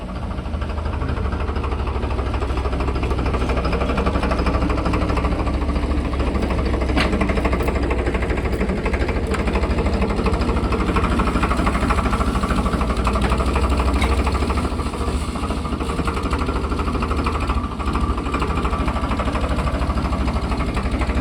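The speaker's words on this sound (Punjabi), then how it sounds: "ਪੁਰਾਣਾ ਟਰੈਕਟਰ ਹੈ ਇਹ 1987 ਮਾਡਲ ਦਾ ਹੈ" A 1987-model tractor engine runs steadily at idle, a constant low rumbling chug with mechanical rattle, close and unbroken for the whole stretch.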